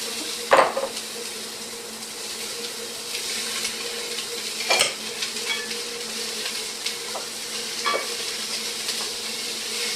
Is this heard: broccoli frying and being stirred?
yes